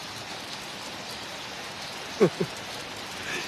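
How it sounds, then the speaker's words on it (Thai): Steady rain hisses down on a dark night at an outdoor village show in Thailand, a dense, even wash of noise heard at a distance with two brief knocks partway through. "ถล่มลงมาเลยสายน้ำสายฝน"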